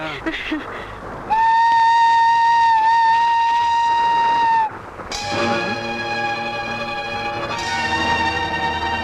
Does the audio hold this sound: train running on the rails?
yes